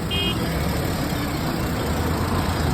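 A car engine idles and creeps forward slowly in first gear, a steady low rumble held close and even throughout, with no talk over it.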